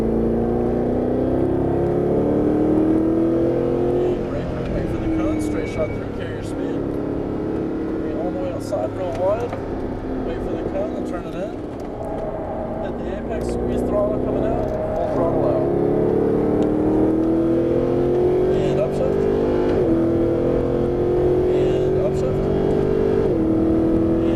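A Mercedes-Benz SLS AMG engine on a race track in Las Vegas, steadily loud and rising in pitch as it accelerates out of corners, with brief dips between pulls and someone talking over it.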